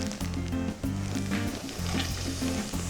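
Onions and carrots sizzle in olive oil and butter in a hot pan, a close, steady hiss with brief crackles and a few interruptions as the vegetables go in, with no talking.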